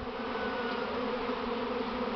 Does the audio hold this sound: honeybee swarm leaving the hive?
yes